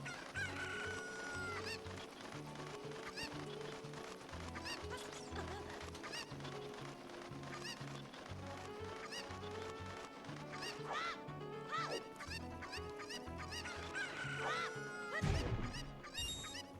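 A chicken in Ocarina of Time clucks and crows, the bird calls sitting over a looping game music track and other game effects, with no speech.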